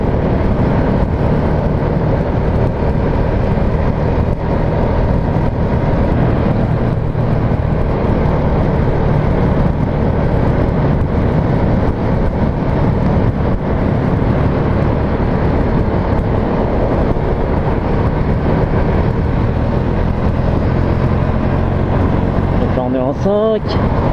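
A Husqvarna Vitpilen 401 motorcycle on a test ride, with a loud, constant roar of engine and rushing wind that holds steady for the whole ride.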